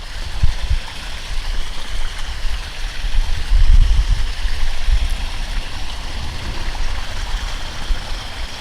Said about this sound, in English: Starting to lose the waterfall, but still have the sound.